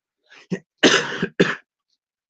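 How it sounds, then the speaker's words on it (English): A few sharp, close coughs in quick bursts, with a longer rough cough in the middle, then silence. "No, don't cough."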